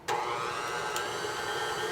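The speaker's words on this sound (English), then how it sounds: "I recommend starting your mixer slowly and then working up the speed" Electric mixer beating swerve sweetener into keto lemon cheesecake batter, a steady continuous motor whir that starts abruptly and holds at an even, close level for the whole stretch, with no talking.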